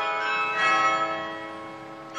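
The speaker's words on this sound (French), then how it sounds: "c'est le carillon automatique qui rythme la vie des Douaisiens" The automatic carillon of the Douai belfry chimes the half hour, bright bronze bells ringing with long overlapping resonance that slowly decays, heard from outside at a moderate distance with no talking.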